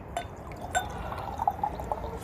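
Jester King beer is poured from a bottle into a glass: faint liquid trickling and fizz with a few small glassy clinks and drips, close and quiet, with no voices.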